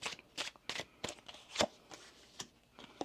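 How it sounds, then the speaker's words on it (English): A deck of tarot cards is shuffled by hand, a close, quiet run of crisp riffling bursts in an uneven rhythm, about ten distinct flicks with short gaps between. "One more shuffle."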